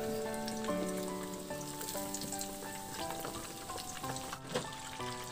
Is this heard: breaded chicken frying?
yes